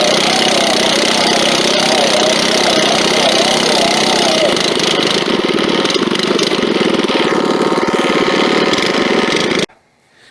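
A Baja Warrior mini bike's small engine runs through a torque converter with a steady, buzzy drone that wavers a little. It stops abruptly near the end.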